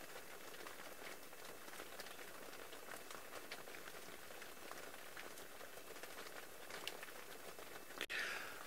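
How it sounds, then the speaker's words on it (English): Rain falling in the Masai Mara, a soft, even patter spread across the whole stretch, fairly faint and steady, with one brief sharp knock near the end. "just enjoying this breeze of rain"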